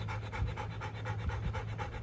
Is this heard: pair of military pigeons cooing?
no